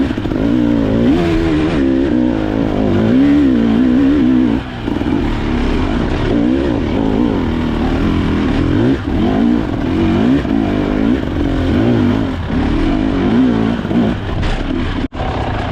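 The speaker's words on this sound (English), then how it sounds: "After I got that skid plate installed, I decided to go for a ride and test it out." The engine of a Husky TE300 two-stroke dirt bike revs steadily and loudly on a canyon trail ride, its pitch rising and falling with the throttle for the whole stretch, close up and with no voices.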